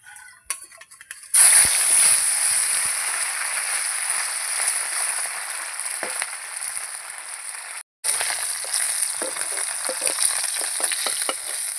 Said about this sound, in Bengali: এবার আমি যে কটা আছে ভেজে নেবো তাহলে আমার মাছ ভাজা হয়ে যাবে